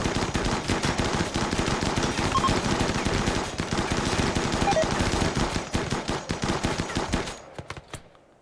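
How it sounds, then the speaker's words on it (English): Rapid assault rifle fire from a RimWorld battle, with dense overlapping bursts of automatic gunshots going on continuously and loudly for about seven seconds, then cutting off abruptly into a short fading tail. "Power of assault rifles,"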